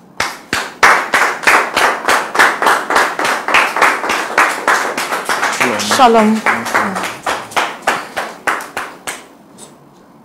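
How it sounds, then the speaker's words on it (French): Studio audience on a French talk show claps in quick, rhythmic bursts that build and taper over about ten seconds, with a voice speaking briefly partway through. "sous vos applaudissements."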